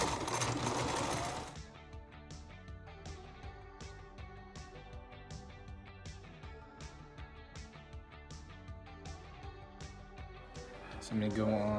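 Sewing machine back-stitching elastic onto a cloth mask, a rapid run of close mechanical needle taps at an even, slow pace, with a brief burst of louder rustle at the start and end.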